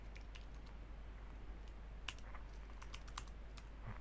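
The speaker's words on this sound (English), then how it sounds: "So I'm just going to type in a password, something, it has to be at least 8 characters." A password being typed on a computer keyboard, with faint, rapid irregular key clicks over a steady low hum, no voices.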